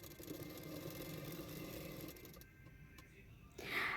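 A sewing machine stitches along the edge of blouse lining fabric with a rapid, even mechanical chatter that stops partway and gives way to brief clicks and a handling noise.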